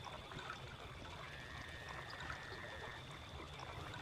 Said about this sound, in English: just sneaking through the water and the reeds like this